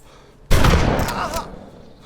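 A loud, close burst of gunfire in the video game DayZ, starting abruptly and rolling on for about a second before trailing off into reverberation, with no talk over it.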